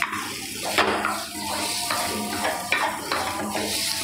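Channa dal gravy is stirred steadily in a hot pan, with repeated scraping and clinking of the spoon over a continuous sizzle.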